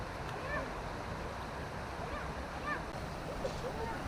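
Water from a mini waterfall pours steadily into a pool in a cool hill setting, a constant broadband rush with faint chirps and distant voices mixed in.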